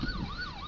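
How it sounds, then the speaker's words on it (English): A police car siren wails in a wavering rise-and-fall tone, steady and moderately loud, heard briefly from the road on its own without talk. "there's a police car going lights and sirens"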